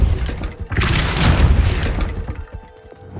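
In Hogwarts Legacy, a Depulso spell lets off a single heavy, close blast that swells into a rumbling boom and then fades into quieter debris and ambience.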